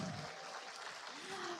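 Audience applause at an Indonesian political gathering, a steady broadband patter of clapping throughout, with a voice faintly audible underneath.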